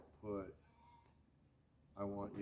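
Sheep bleat twice during a herding lesson outdoors, each a short, wavering call, near and clear against quiet background.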